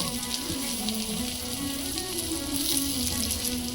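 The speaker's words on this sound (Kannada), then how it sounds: "ಒಂದೊಂದೇ ಹೀಗೆ ತಿರುಗಿಸ್ತಾ ಇದ್ದೀನಿ. ತಿರುಗಿಸಿ ಹಾಗೆ ಒಂದು ಸ್ವಲ್ಪ ಹೊತ್ತು ಎಲ್ಲನೂ ಬೇಯಿಸ್ಕೋಬೇಕು." Beetroot slices fry in a pan for a quick roast snack, giving a continuous, even sizzle and crackle with no talk over it.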